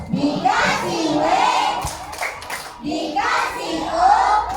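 Children in a classroom shout a rhythmic group cheer with claps, loud and close, with their voices rising in chanted swells, a brief break of scattered claps, then another shouted round.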